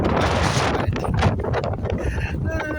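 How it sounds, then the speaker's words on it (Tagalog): Strong morning wind buffets the microphone outdoors in a constant, loud roar with gusty rumbling throughout. "Kami dito sa amin medyo mahangin."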